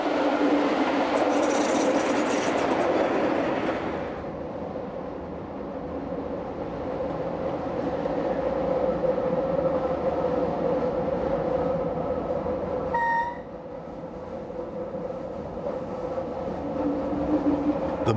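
A Chemins de Fer du Jura train running on meter gauge track in the Swiss Jura near La Chaux-de-Fonds gives a steady rumbling hum with a sustained tonal whine, a brief high squeal near the end, and a quieter lull midway.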